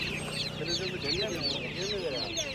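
Chickens cluck steadily at the Taşköprü poultry market in Kastamonu, a busy flock heard close up with overlapping calls and chatter from people nearby.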